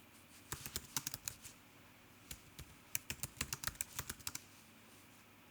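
Quick bursts of clicky key taps on a computer keyboard while typing new meme text, close and quiet, in two clusters separated by a short pause, with no talking.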